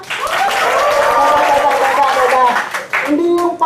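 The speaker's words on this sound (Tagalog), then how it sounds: "Pag nagpakita siya ng resulta, palakpak." Audience applause at a new dealer orientation session, a sustained loud wash of clapping from a crowd, with a voice speaking over it near the end.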